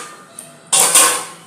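A utensil scrapes and clanks briefly in a pan while fried paneer is stirred for chilli paneer. A faint tap comes first, then a louder metallic scrape that fades within about half a second.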